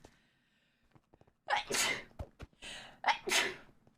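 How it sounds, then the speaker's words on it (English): Two sharp, loud sneezes up close, each preceded by a quick inhaling gasp, following a quiet stretch. "Oh, I'm gonna sneeze."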